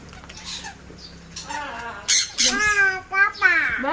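Birds squawk at a bird park in Kulim, loud harsh calls bunching up in the second half, with children's voices close by.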